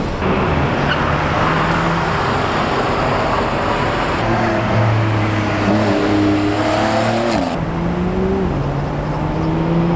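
A Porsche 911 GT3 Touring's loud engine roars close by, its pitch climbing and shifting as the car accelerates past amid road noise.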